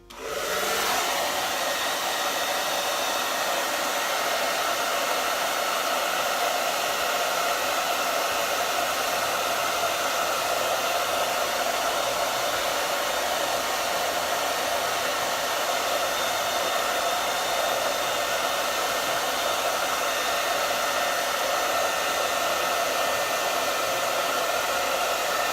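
A hair dryer runs on medium heat to dry a beard, a loud, steady, close whoosh that holds unbroken for the full length without any talk.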